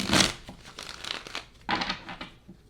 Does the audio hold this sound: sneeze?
no